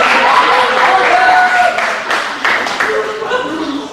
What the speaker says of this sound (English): Let's hear it by applause if you want me to pull it out of my pants right now.